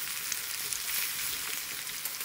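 Bitter gourd slices frying in hot oil in a pan at a village kitchen, a steady, close, faint sizzle with no talking.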